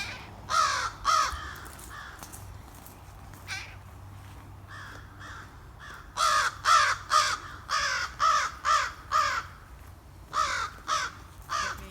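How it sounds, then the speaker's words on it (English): A crow caws repeatedly while attacking: harsh calls come in bursts, first a few early, then a rapid series of loud caws in the second half, outdoors with low background rumble. "being attacked by a crow."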